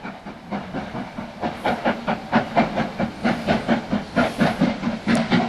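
A steam locomotive on the North York Moors railway passes under a bridge, its steady rhythmic chuffing loud and close, with hissing steam and rolling wheels beneath.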